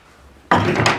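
A wooden dresser drawer slides shut with a sudden loud thunk, followed by a brief rumbling scrape and a second softer knock as it settles into place.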